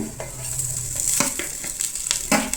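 Cooked basmati rice stirred in a hot pan with browned garlic and chili flakes, a continuous close sizzle broken by several quick spoon scrapes against the pan.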